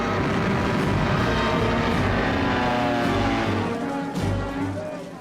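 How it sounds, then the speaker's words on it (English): Stuka dive bombers and medium bomber aircraft fly overhead with a dense, continuous propeller engine roar, loud and steady throughout before easing slightly near the end. "the Stukas and medium bombers proved devastatingly effective"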